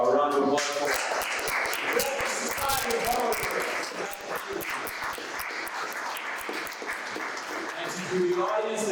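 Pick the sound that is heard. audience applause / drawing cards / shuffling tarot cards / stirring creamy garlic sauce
audience applause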